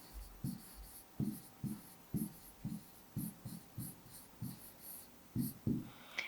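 Someone writes by hand, the pen or pencil making soft, close scratchy strokes in an irregular rhythm of short bursts, quiet and with no talking.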